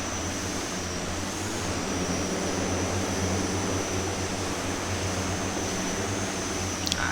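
A de Havilland Twin Otter's propeller engines drone steadily while the aircraft taxis, a loud continuous hum with low tonal bands and a high whine, holding even throughout with no talk.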